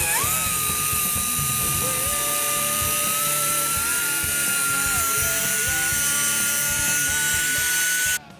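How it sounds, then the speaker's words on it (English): A cutoff wheel grinds through a weld on an exhaust downpipe flange with a steady high whine that dips and recovers as it bites into the metal, loud and continuous until it winds down at the end. "I'm going to cut the weld here with a cutoff wheel"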